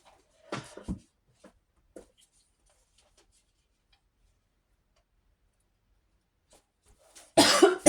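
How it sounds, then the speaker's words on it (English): A few sharp coughs break out early, then a long quiet stretch before a louder, harsher cough erupts at the end. "I have a coughing fit."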